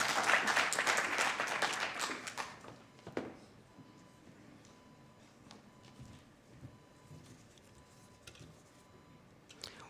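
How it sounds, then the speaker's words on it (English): Audience applause at a debate final: a burst of steady clapping from a crowd that fades out after about three seconds, leaving quiet room noise with scattered faint taps. "Let's give them a round of applause."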